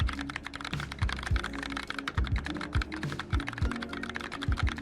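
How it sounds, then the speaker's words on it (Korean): Rapid, close keyboard typing with irregular clicking keystrokes and occasional heavier key thumps, steady throughout with no voices. "키보드 효과음도 한번 넣어 볼게요."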